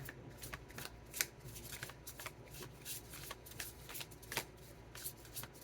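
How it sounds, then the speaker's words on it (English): Tarot cards from a Spacious Tarot deck shuffled and drawn by hand, a steady run of soft, close riffling flicks and slides with a few sharper snaps, and no voice. "I'm going to pull out a couple of cards from the Spacious Tarot"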